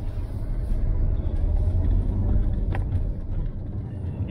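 A Fiat Coupe 20V Turbo drives slowly around an industrial estate, giving a steady low engine and road rumble heard from close by, with no clear revving.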